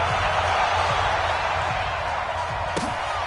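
Stadium crowd roaring at a video game football match between the Tennessee Titans and Houston Texans, a broad, steady crowd wash with a few low thumps, under a commentator's voice.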